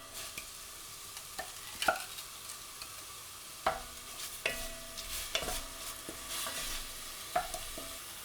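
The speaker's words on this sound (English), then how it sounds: "great sizzle" Curry leaves sizzle and spit in hot oil in a pan, a steady bright frying hiss broken by scattered pops and a few clinks of stirring, close and fairly quiet, with no voices.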